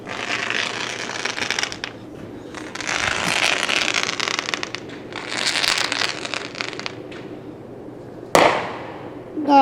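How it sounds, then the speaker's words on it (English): New Year's Eve fireworks crackle outside an open window in long dense bursts of rapid popping, separated by quieter gaps, ending with a sharp loud bang. "Oh, my personal fireworks show, ladies and gentlemen."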